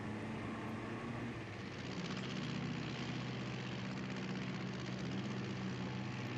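A propeller aeroplane flies low over a bare moor, its engine droning steadily and loud, with no talk over it.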